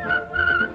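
A clear whistled tune, a couple of sustained high notes carried over light instrumental backing, close and fairly loud.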